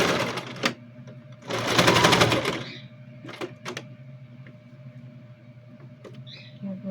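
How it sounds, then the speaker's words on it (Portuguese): A sewing machine stitches a seam on a child's backpack in short motor bursts, one longer run in the middle, with quiet pauses and small clicks between them. "Então aqui eu venho e passo a costurinha aqui"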